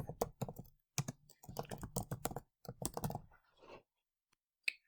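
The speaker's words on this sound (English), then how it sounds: "you are going to type your evaluation paragraph" Quick bursts of computer keyboard typing, clustered clicks in short runs separated by brief pauses, fairly close and alone with no voices.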